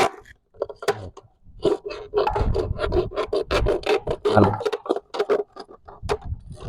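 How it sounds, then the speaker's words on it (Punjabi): A knife is twisted through a plastic bottle to make a homemade bird feeder. The cutting gives rapid rasping and crackling scrapes, close and fairly loud, with someone talking over the cuts. "ਇਹਨੂੰ ਫੜ ਕੇ ਇੰਜ ਕੱਟ ਸਕਦੇ ਆ ਜੀ ਆ ਦੇਖੋ ਇਹਨੂੰ ਕਰਦ ਨੂੰ ਘੁਮਾ ਕੇ"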